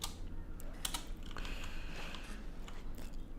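Rapid typing on a computer keyboard during a Guild Wars 2 game session, with dense, irregular clicks and a few sharper key strikes over a steady low hum.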